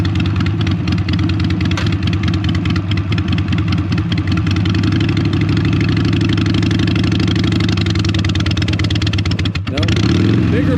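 Harley Sportster motorcycle engine revving hard and steadily during a burnout attempt, a loud, close, continuous rumble that holds throughout and dips briefly near the end before picking up again.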